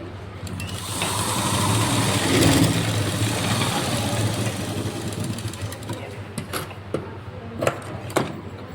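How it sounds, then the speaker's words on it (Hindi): An electric sewing machine stitches a kurti neckline with a continuous motor whir that swells and then eases off. Sharp clicks and taps follow as the stitching slows and stops. "जो हमारी गले की शेप है उस पे हमें यहाँ से और यहाँ तक सिलाई लगा लेनी है"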